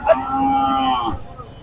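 A single loud, drawn-out moo from a heifer calf at a cattle market in Chuadanga, close by, lasting about a second before trailing off into a low rumble of background noise.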